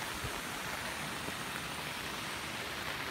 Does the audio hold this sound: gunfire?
no